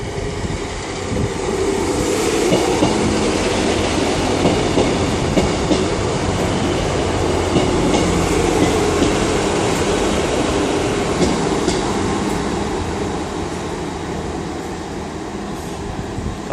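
A GWR Class 158 diesel passenger train arriving at Westbury station, its loud rumbling rolling noise rising and holding steady with faint wheel clatter, then slowly easing as it slows, with no talk.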